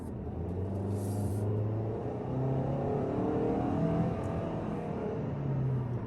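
Quiet in-cabin drone from a 2021 Toyota Corolla SE with a CVT taking a turn, low engine tones rising and falling gently over soft road rumble, with no voices.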